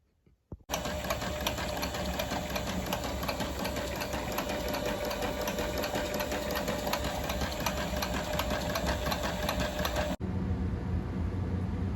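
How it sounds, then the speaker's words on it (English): A sewing machine stitches fringe onto leather chaps, running loud and steady in one continuous mechanical whir for about nine seconds, then stopping abruptly. "we're going to go ahead and sew that in"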